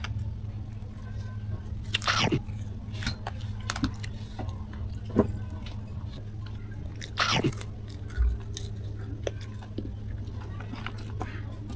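Deep fried pork chop being chewed close to the microphone, with crunchy bites around two and seven seconds and soft, moist mastication in between, steady background hum.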